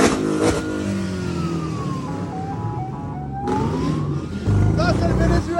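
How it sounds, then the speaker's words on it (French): Car driving through Venezuela at 3:30 in the morning, steady road and engine rumble with a siren-like rising and falling tone passing through, voices talking over it. "du coup on a pris une bagnole là"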